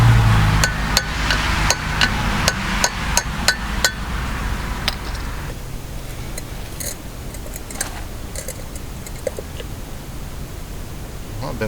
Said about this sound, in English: I want to sit here and try to start getting this hammered down